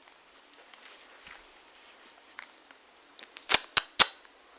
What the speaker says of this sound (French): Ah, notre vieux fusil à pompe Windham.